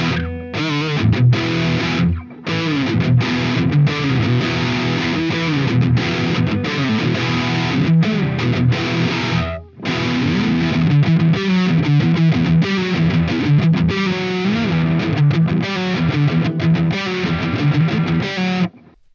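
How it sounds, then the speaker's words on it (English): An electric guitar plays through a Friedman amp simulation plugin set to a tight, beefy distortion, with dense, continuous chugging riffs and chords that stay loud and saturated with only brief pauses. "a really tight sounding distortion sound, beefy greens."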